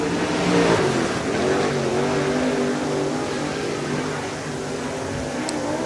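A race car on the track at Swainsboro Raceway in Georgia accelerates hard under full throttle, its engine note droning and rising steadily at moderate distance, with no voices over it.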